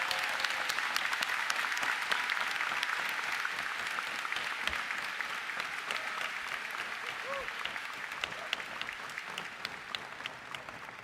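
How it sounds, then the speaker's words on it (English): A graduation ceremony crowd applauds its teachers with a steady, dense wash of clapping that holds for about eleven seconds and fades slightly toward the end. "Let's give them a round of applause."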